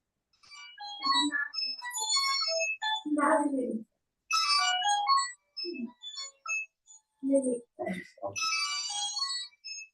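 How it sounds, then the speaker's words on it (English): An incoming-call phone ringtone plays as a chiming electronic melody in bursts, fairly near and clear, with short gaps between phrases and no talk over it. "phone call coming here"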